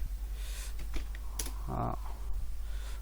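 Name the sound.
typing on a computer keyboard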